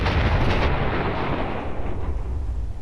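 A homemade explosive from a Fallout 4 mod detonates in the game with a loud, heavy blast that opens the clip and then rolls off into a long, rumbling decay, with no voices.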